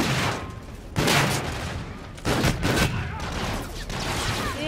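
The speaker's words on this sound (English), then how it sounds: "I didn't realize this was a shotgun." Shotgun blasts in Infinite Warfare's Gun Game mode, a few heavy, booming shots spaced about a second apart amid continuous game noise, close and loud.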